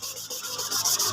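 Hand sanding a motorcycle body panel smooth during a paint job, a steady rasping rub with rhythmic strokes about every few tenths of a second, close and fairly loud, with no talk.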